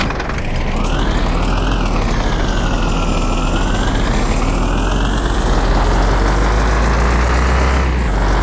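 An ambulance siren wails in the Truck Simulator 25 video game, a loud, continuous rising and falling tone over the steady drone of a truck engine, with no talking.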